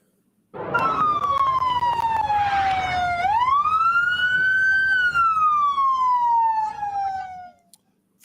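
A loud emergency vehicle siren wails close by in a city, a single steady tone sliding down, sweeping back up, then falling away as it fades out near the end.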